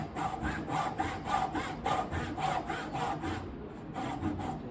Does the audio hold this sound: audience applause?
no